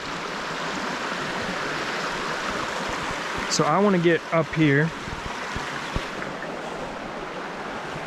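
Shallow stream water runs past a bridge with a continuous steady rush. Someone speaks briefly near the middle over the flow.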